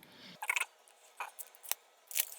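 Crinkly plastic packaging is torn and rustled open around a new Jordana Fabuliner liquid eyeliner, a few sharp, quiet bursts of crackle separated by short pauses.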